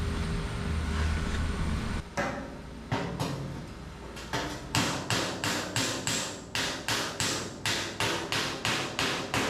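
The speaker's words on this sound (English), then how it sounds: "let me hammer and dolly on it some" A hammer strikes against a dolly on a damaged car body panel, first a few spaced blows, then a fast, even series of sharp metallic hits, loud and close with no talking.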